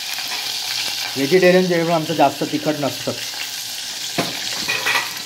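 Green chillies fry in hot oil for a Maharashtrian tempering, giving a loud, continuous sizzle and crackle, with a person speaking over the cooking.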